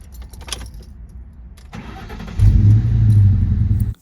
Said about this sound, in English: Car starts up, sounds good,